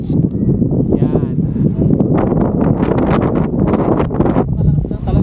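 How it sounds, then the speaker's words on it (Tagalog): Strong gusting wind buffets the microphone on the summit of Mt. Olis in Atok, Benguet, roaring close and loud in bursts throughout. "Malakas na talaga ng hangin guys."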